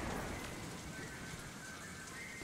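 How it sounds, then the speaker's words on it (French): Rain effects in the Crysis 3 video game: a steady, even hiss of falling rain with no gaps, fairly quiet and heard alone. "Ça, les effets de pluie, quoi."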